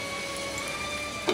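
Egg cake batter fries in hot oil with a steady, hissing sizzle that sounds like close, even rain throughout a brief moment.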